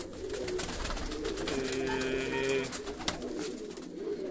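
A pigeon paired with a hen in a Punjabi fancier's loft coos in low rolling phrases over steady background noise, with a sharp click partway through.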